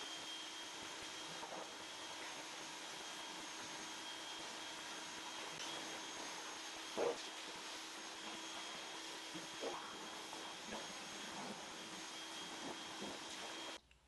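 A car wash wand sprays water in a wash bay as a constant, loud, broad hiss that runs unbroken for the whole stretch, with no one talking.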